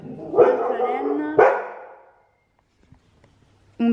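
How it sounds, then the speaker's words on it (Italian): A dog barks near a garden being decorated for Christmas. Two loud, drawn-out barks come close together, then quiet with faint small sounds, and a new loud burst starts at the very end. "un cane che abbaia"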